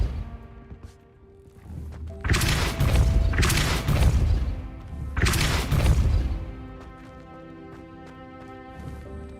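Depulso repelling spell impacts in a Harry Potter video game land as two heavy, crashing bursts of booming noise, each lasting a couple of seconds, with quieter game music and ambience in between and afterward.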